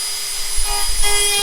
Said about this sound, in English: I'm going to give that just a little bit more with my sanding.